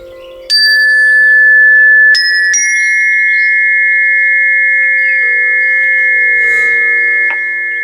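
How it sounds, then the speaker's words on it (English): Small meditation chimes struck three times in quick succession, each bright metallic tone ringing clearly and sustaining long after, with a fainter tap near the end as the shimmer slowly decays. "I've got my little chimes here"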